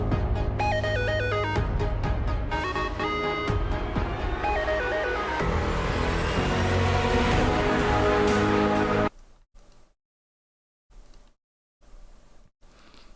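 A 2019 version track plays as busy electronic music with stepping melodic lines and dense layers for about nine seconds, then cuts off abruptly into near silence with a few faint bursts.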